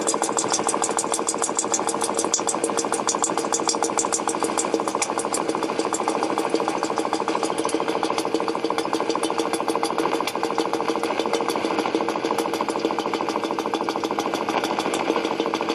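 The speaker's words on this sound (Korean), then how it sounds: "그 컴프레셔가 돌아가는 그 소리입니다" A steady, loud mechanical drone with a fast rhythmic chatter runs continuously without pause, an air compressor working nearby.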